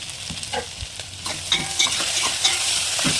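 Lady finger (okra) fry being stirred in a pan, with steady frying sizzle and repeated scraping strokes of the spoon, close and fairly loud, no talking.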